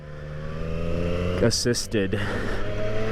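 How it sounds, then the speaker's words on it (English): A motorcycle engine revs on a half-throttle pull during a mountain ride, Kawasaki Z400 versus Yamaha Tracer 900, with a steady droning hum that surges midway, and a rider talking over it. "it was like another half throttle pull"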